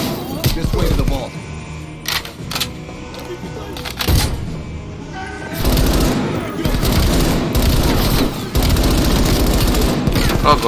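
Gunfire in Call of Duty: Black Ops Cold War, with rapid automatic bursts and heavy shots crackling loudly and almost continuously, mixed with game voices and other battle noise.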